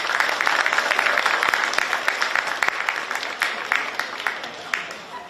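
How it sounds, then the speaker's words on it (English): Crowd at a women's football final in Queensland applauding the host club Brisbane City, a dense, lively burst of clapping that thins and tapers toward the end, with some voices mixed in. "a big round of applause please for Brisbane City"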